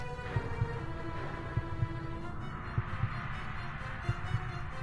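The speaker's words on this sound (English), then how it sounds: "I hear the heartbeat. I think that means danger." A heartbeat signalling danger in the video game Sucker For Love, with paired low thumps repeating at a slow, steady rhythm over a sustained dark hum.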